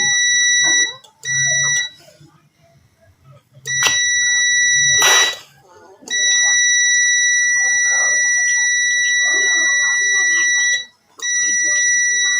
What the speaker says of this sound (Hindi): अब मैं जैसे इसके अंदर प्रेशर बिल्ड कराता हूँ साथ ही आप देखिएगा कि ये बीप बंद हो जाएगी